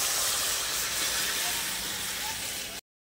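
Potato and drumstick curry broth poured onto hot fried spice paste in a pan gives a loud, close, steady sizzling hiss that cuts off abruptly near the end.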